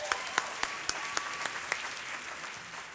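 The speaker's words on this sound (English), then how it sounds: "Give them a round of applause." An audience at the 2016 National Book Awards poetry reading applauds, heard as faint, distant, scattered hand claps with a few sharper individual claps over a soft, hollow room tone.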